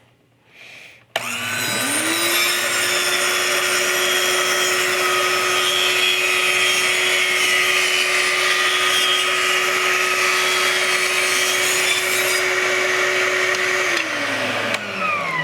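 Power saw fitted with a riving knife cutting through a wooden board for a niche wall shelf, a loud steady whine that spins up after a brief click, holds for over ten seconds, then winds down.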